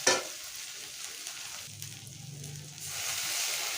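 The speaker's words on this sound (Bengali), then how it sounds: "একটু ভালো করে পেস্ট করে ভেজে নেব।" Chili paste with chopped onion and green chilies frying in a pan, a soft steady sizzle with a faint low hum in the middle, quiet and continuous with no talking.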